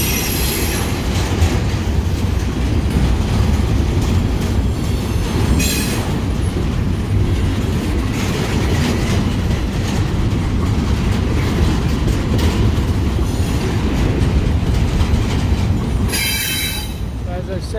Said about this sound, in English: As I said, this train is coming out of the Hoosac Tunnel.